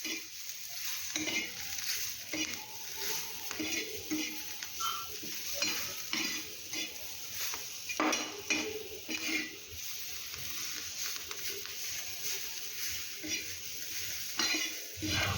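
Green chillies frying with salt in a pan give a steady sizzle throughout, broken by frequent scraping stir strokes and occasional utensil clinks close by, with no talking.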